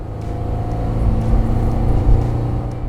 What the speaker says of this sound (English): That's not a very pleasant sound, but you'll hear it a lot because the engine lacks the torque or pulling power to move the car along